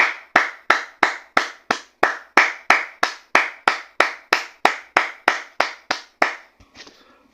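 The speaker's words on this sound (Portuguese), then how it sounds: "Palmas para dona CBF." A single person claps by hand, about eighteen sharp, evenly spaced claps at a steady brisk rhythm, close and loud with nothing else under them, ending in a few softer trailing sounds.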